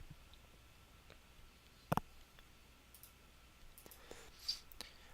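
A computer mouse clicks once distinctly, followed by a few fainter ticks and clicks in a quiet room.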